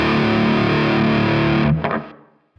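Distorted electric guitar through a Nembrini amp plugin modeled on a '59 Super Lead, a loud sustained chord ringing out and then decaying to silence near the end.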